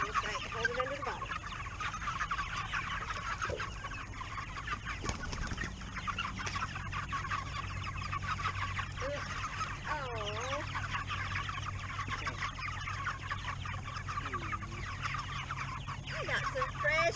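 Cornish Cross meat chickens cluck and chatter continuously at close range in a broiler pen, a dense steady flock sound with a brief louder knock near the middle.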